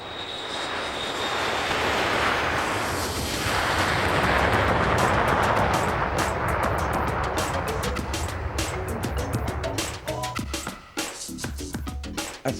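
A cargo plane taking off, its engine roar swelling to a loud sustained rush and then easing, with sharp clicks and crackle toward the end.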